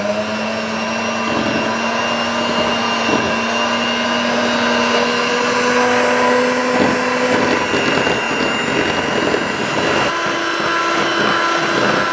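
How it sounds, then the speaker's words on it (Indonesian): An electric mixer whirs at low speed, beating cake batter for a mini roll cake, a loud, continuous motor hum with small shifts in pitch and no voices. "Terus kita kocok pakai kecepatan rendah dulu"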